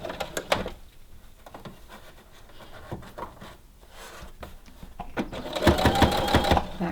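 Sewing machine back-stitching fabric bunting with bias tape folded over it, bursts of close mechanical stitching that start and stop several times, growing louder and steadier toward the end.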